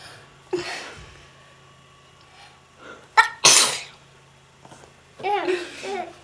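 A little girl sneezes once, loudly and close, while toddler babble and adult voices come before and after.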